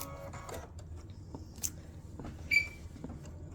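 An embroidery machine stitches a letter into an already embroidered name, giving a steady mechanical whirring hum with faint clicks and one brief sharper chirp.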